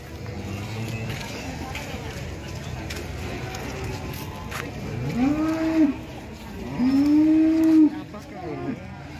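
A Simmental cow moos twice in long, drawn-out calls, the second louder and longer, over a busy outdoor background with some voices.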